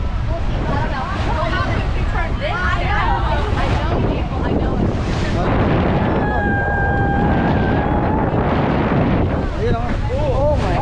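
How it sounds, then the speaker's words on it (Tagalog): Big ocean waves slap and churn around a boat on a Hawaii sunset cruise, with heavy wind rumbling loudly and continuously into the microphone while people talk and exclaim throughout. "Ay, grabe yung alon dito."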